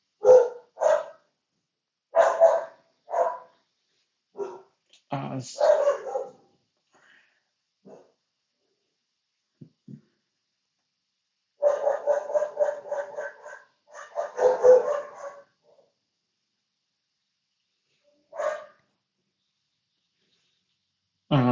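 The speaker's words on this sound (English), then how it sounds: "Sorry about my dogs in the background," Several dogs bark in irregular bursts of sharp woofs, some closer and louder, with long quiet gaps between volleys in an indoor room, and a brief spoken syllable from a person.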